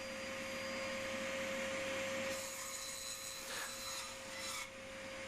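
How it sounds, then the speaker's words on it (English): Overpowered bandsaw chopping box-joint corners off rubber wood offcut timber: a steady broadband machine whine with a constant motor hum, the cut easing partway through as a blade drone continues, alone without talk. "using an extremely overpowered bandsaw just to chop off the box joints on the corner"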